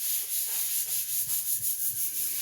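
Paper being rubbed over a cut paper print for printmaking, a soft, rhythmic swishing rub repeated in even strokes, close and fairly quiet, with no talking.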